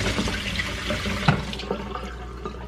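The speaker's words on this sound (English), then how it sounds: "Some hot water to loosen it from the container." Hot water runs steadily from a kitchen tap into a sink to loosen a frozen meal from its container, a continuous close splashing rush with a brief clunk partway through.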